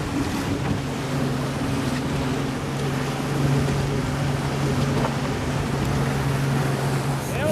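A fishing boat trolls at high speed off Cape Cod, its engine a steady loud drone mixed with rushing wind and water spray throughout.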